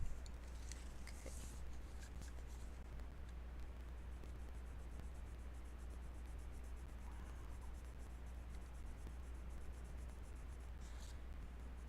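A Derwent Lightfast coloured pencil moves over paper, giving a faint, continuous scratchy rasp of steady strokes, with a few slightly sharper scrapes near the start and end.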